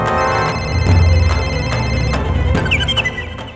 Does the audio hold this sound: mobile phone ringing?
yes